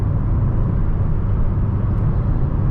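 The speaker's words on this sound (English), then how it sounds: "so wind noise and tire noise, understandably, they're a bit loud in this vehicle" Steady low rumble of wind and tire roar inside a 2022-2023 Mazda MX-5 Miata RF GT automatic on the move, loud and constant with no talking.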